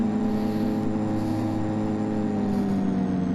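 A de Havilland Twin Otter turboprop engine spools up during start in a flight simulator, producing a steady, loud droning hum with sustained tonal whine that holds throughout, with no voices.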